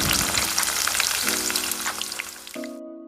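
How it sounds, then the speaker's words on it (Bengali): Onions for birista fry in hot refined oil in a kadai, a bright, crackling sizzle dense with pops that fades toward the end, alongside a faint steady hum. "বেরেস্তার জন্য পেঁয়াজগুলোকে ভেজে নেব"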